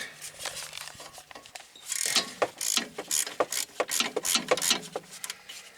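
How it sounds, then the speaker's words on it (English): A ratchet with a 13mm deep well socket loosens brake caliper bolts on a 2013 Smart ForTwo Passion, rapid close clicking pawl bursts in irregular strokes with light metallic clatter, no talk over it. "Using a 13mm deep well, so I can get around this brake line."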